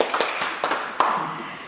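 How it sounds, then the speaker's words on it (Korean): A few scattered hand claps in a church service as a congregation welcomes a newcomer, sparse irregular claps rather than full applause, fairly close. "박수를 쳐드리고"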